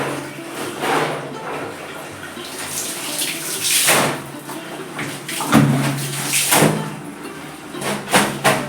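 Curtains being washed by hand with water, repeated splashing and sloshing surges with wet slaps in an uneven rhythm, fairly close and without talk.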